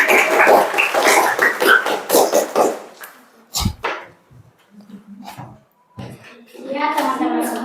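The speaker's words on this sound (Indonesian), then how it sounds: "berikan tepuk tangan dulu buat Nova." Students in a secondary school classroom clap hands together in a brisk burst of rhythmic claps at the start, then the clapping stops and scattered young voices and sparse sounds follow, with speech returning near the end.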